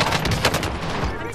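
Rapid bursts of automatic gunfire crackle in Call of Duty Warzone, dense and loud across a brief stretch of overlapping shots.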